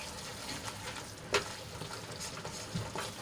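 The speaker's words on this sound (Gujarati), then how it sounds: "તો મસાલાને સરસ રીતે ગ્રેવીમાં મિક્સ કરીને 1 મિનિટ માટે સાંતળી લઈશું." Spice masala being stirred and sautéed in a gravy of green corn and paneer curry, a soft continuous sizzle with scraping spoon strokes and a couple of sharper clinks, no talk.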